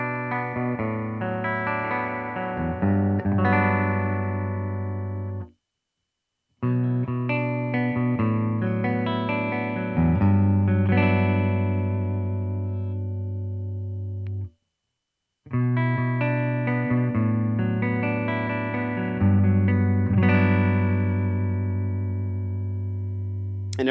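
An electric guitar on a clean amp channel plays clean, ringing chords and arpeggios in three phrases separated by brief silences, each note sustaining and decaying.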